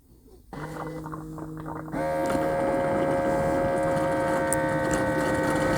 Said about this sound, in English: That's what a dirty water pump should sound like.